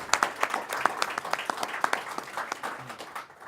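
Applause from an audience at a public event on New York tuition waivers for fallen service members' children, honoring a Bronze Star veteran: a moderate round of scattered, rhythmic clapping that carries on steadily without speech.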